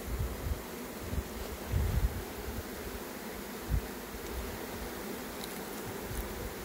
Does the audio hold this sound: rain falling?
no